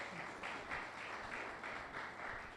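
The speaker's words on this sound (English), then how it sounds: "Round of applause for our friends." Applause at a neighborhood community meeting in Ohio City, a steady patter of hands clapping from a small indoor crowd, moderately faint and continuous for a few seconds.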